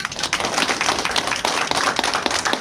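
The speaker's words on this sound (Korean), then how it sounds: "운영위원 연속 회의를 힘찬 박수로 시작하도록 하겠습니다" A group at a Korean bereaved families' association meeting claps briskly to open the session, producing fast, close, overlapping hand claps with a choppy, uneven rhythm.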